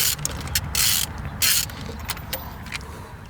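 A hand ratchet loosens the spark plugs on a Peugeot 205 CTI engine, giving close, irregular bursts of clicking and metallic mechanism noise with short pauses between the strokes.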